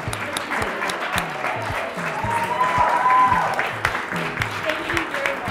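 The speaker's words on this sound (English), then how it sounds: "we've got to give these three women a big round of applause" Applause honours three women at a human rights fund event, a crowd clapping steadily over a low rhythmic pulse of background music, with a voice briefly audible.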